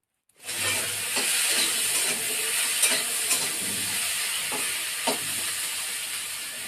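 Food sizzles and spits steadily in a hot pan on a home stove, with a few sharp stirring scrapes and clicks punctuating the continuous hiss; no one speaks.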